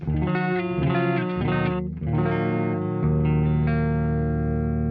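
Clean electric guitar played straight through an amp with no reverb, sustained chords and ringing notes with a dry, close tone and steady volume throughout.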